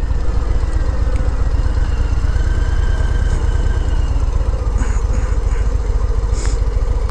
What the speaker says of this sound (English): Nice little ZX6R, I think.